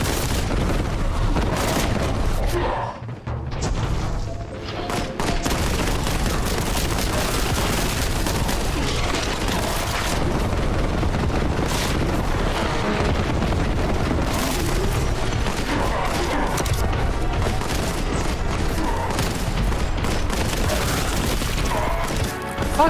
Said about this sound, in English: It does sound pretty loud. As a Boltgun should sound, right? It's basically a miniature rocket launcher, right?